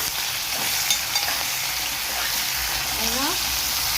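Sambar with red pumpkin and tomato being stirred in a pan, a loud, dense sizzle and bubbling that runs steadily throughout, with faint clinks and scrapes.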